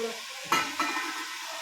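Mutton masala with capsicum, ginger and chilli frying in oil in a pan, a steady soft sizzle broken by a short scrape of stirring.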